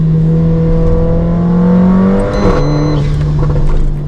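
A 450 hp Weistec-tuned Mercedes-AMG GLA45 engine revs loud and close. The steady drone rises in pitch, then drops sharply, and a second rev follows with a growling, raspy edge.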